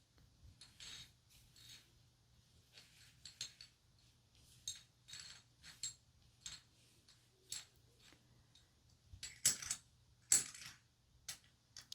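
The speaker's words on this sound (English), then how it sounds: "I am obsessed with the clicking sound of the coins" Coins in a plastic baggie click and clack together up close, in quiet irregular bursts of small metallic taps with a few louder jingles near the end.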